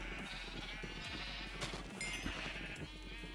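Several sheep bleat in Minecraft, their overlapping cries repeating over a low steady hum, quiet and with no talk.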